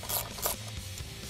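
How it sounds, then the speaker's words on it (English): An 8mm socket on a ratchet loosens the ignition coil bolts on a Ford Mustang engine during a Roush supercharger install, giving a brief quick ratcheting rasp with two louder bursts, close and alone. "Now use an 8mm socket to remove the coil themselves."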